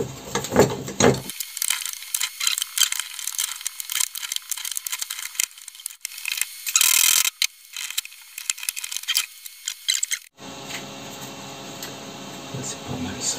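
A ratchet clicks in quick, uneven bursts while a clamp is tightened around an old motorcycle exhaust, close and fairly loud in a workshop setting.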